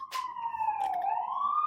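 An emergency vehicle siren wails along a New York street, a loud, clear tone sliding down and then climbing back up in a single steady sweep.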